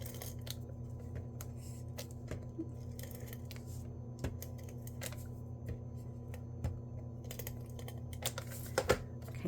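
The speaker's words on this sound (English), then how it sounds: "I have a tape runner in front of me" A tape runner lays adhesive strips for a paper craft, giving soft, faint clicks and light rasping pulls in short scattered bursts over a quiet room hum.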